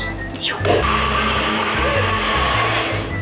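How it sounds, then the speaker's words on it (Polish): A kitchen blender kicks on with a jolt and then whirs steadily at full speed, loud and close, blending food that includes tomato; voices and laughter sit faintly underneath. "Potrzebuję odpalić mikser"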